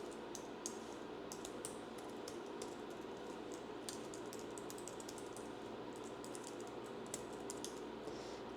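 Soft, quick keystrokes tap on a computer keyboard as personal details go into an online LLC registration form, faint clicks running over a steady low room hum.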